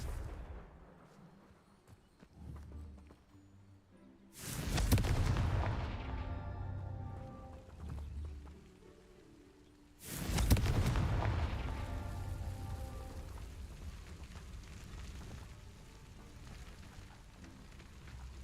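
Two heavy blasts from the Confringo spell in a Hogwarts wizarding video game, each a sudden loud boom that trails off into a long rumbling, crackling decay over quiet ambient game sound.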